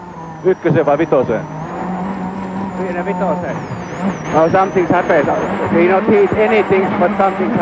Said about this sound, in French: la 206 WRC numéro 3 ne fonctionne pas normalement